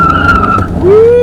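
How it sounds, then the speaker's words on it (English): A VW Dune in sport mode accelerates with a loud, close engine whine that dips and then climbs sharply in pitch over about a second, heard alone. "Dylan's got the VW Dune in sport mode. So let's just see what it does"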